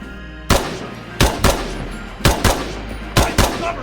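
Gunfire in Incursion Red River, loud close shots in quick pairs, about seven blasts in three bursts, each with a sharp crack and a short echoing tail.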